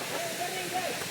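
A hidden waterfall near Kalyan and Titwala makes a steady broadband rushing roar, briefly heard with a voice speaking over it.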